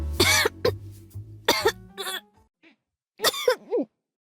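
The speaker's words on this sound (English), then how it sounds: "the sound of liquid accompanies his heavy coughing." Several heavy, harsh coughs from a video game character in bursts, with a pause before a final wet, rasping cough fit, close and loud over a low droning background.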